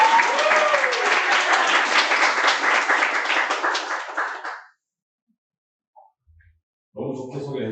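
A crowd applauds loudly for about four and a half seconds at a lecture, dense steady clapping that fades out, followed by silence and then a voice begins speaking in Korean.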